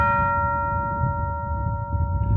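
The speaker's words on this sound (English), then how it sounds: "the doorbell should ring now" Doorbell ringing with a sustained, steady electronic chime tone lasting a couple of seconds, clear and fairly loud over a low background rumble, with no talking.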